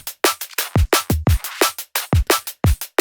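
A tight, distorted drum loop plays fast, with punchy kicks and crisp snare and hat hits in a busy, driving pattern, sounding narrow and gritty.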